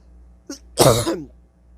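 A single short, harsh cough, preceded by a brief throaty catch, close and fairly loud against a quiet background.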